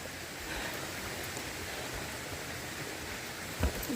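A small creek flows beside a forest hiking trail in hot, humid weather, giving a steady, close rush of water that holds even throughout, with a brief bump of handling noise near the end.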